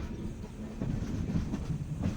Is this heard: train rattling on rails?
yes